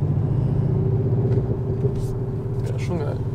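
Mercedes-Benz E200 engine boosted by an active sound module, pulling under load in Sport Plus: a steady, loud low drone with a firm harmonic hum, continuous throughout, with a voice faintly speaking over it.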